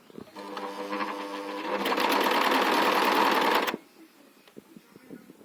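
A sewing machine runs steadily for about three seconds at home, rising from a lighter start into a loud, fast, continuous whir, then stops abruptly and leaves quiet room noise.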